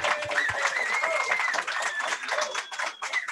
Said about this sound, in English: Stand up and applause.